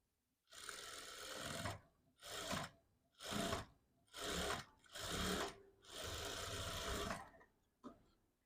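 A sewing machine stitches a blouse lining around the armhole in several distinct bursts. Each whirring run lasts about one to two seconds and is separated by brief pauses. The last run is the longest, and a faint final stitch follows it. The machine sounds close, and no one speaks.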